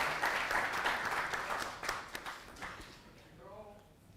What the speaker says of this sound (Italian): Un applauso non solo per i fianchi